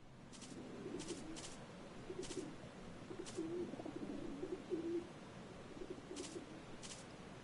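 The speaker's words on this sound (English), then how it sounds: "Oh, it was a cage full of pigeons." Pigeons in a cage in the Postal 4 video game give soft, repeated coos at moderate level over a steady noisy background, with brief hissy bursts breaking in now and then.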